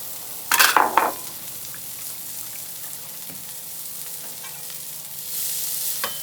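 Cilantro, peppers and onions sautéing on a hot griddle, a burst of loud crackling as they hit the surface, then a steady quieter sizzle that swells again near the end.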